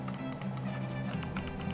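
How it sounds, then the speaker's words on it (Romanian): Sharp clicks from the buttons of a Myria M7507 computer mouse, a quick series of close, crisp taps repeated in irregular bursts over a steady low hum. "Un click satisfăcător."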